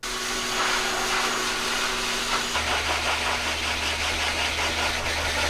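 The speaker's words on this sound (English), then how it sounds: "this is the ear cover they have to wear because the blow dryer can be a little loud" A blow dryer runs steadily during cat grooming, a loud continuous whooshing motor drone that shifts pitch slightly midway, close and unbroken with no talking.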